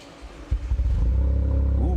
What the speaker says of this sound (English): Let's hear how the exhaust sounds.